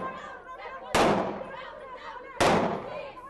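Two sharp, loud gunshots ring out about a second and a half apart, each trailing off in a short echo, during women's militia weapon drills in Gharyan, Libya, over faint background voices.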